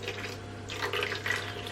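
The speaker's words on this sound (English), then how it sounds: "You only need a tiny weeny bit of water to stop it like burning" Water containing citric acid being poured onto speckle-dyed yarn, a short, soft splashing and trickling pour heard up close and without talk.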